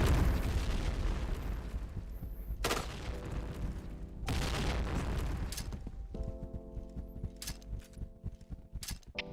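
Bomb explosions in a video game, a string of heavy booming blasts with rumbling decay, followed by rapid crackling bursts like gunfire, loud and dense over several seconds.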